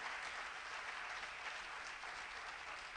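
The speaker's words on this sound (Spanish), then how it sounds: "Dale el aplauso al Señor." Sustained applause from a church congregation during a Spanish-language worship service, a steady wash of clapping that stays even and fairly faint throughout with no break.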